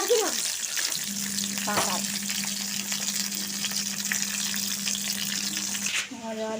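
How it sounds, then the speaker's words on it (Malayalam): Mustard seeds splutter in hot oil for sambar, a steady close frying crackle with a sustained hum beneath it, running without speech. "സാമ്പാറിനുള്ള കടുക് വിറച്ചെടുക്കുന്നു"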